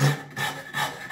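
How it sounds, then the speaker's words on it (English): A hand rasp filing wood, several rough back-and-forth rubbing strokes in steady rhythm, close and fairly loud with no talking. "A rasp, I mean, it'll leave a fairly smooth surface."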